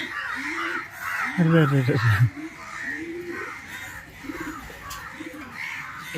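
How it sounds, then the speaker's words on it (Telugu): Crows caw repeatedly nearby at a racing homer pigeon loft, a string of harsh calls rising to a louder burst, with pigeons cooing and someone speaking at times. "కాకులకి ఏమొచ్చింది సడన్గా."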